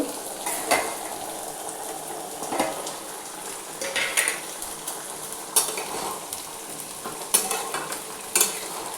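Papaya and chana dal curry being stirred in a pot, with scraping and clinking strokes at irregular intervals over a steady bubbling simmer, close and fairly quiet, no talking.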